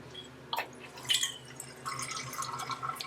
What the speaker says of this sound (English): And then within 10 seconds you can make the hot water go.